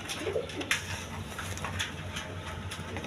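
A pair of pigeons coo softly and repeatedly at close range, with low rolling calls amid faint rustling and a light background hum.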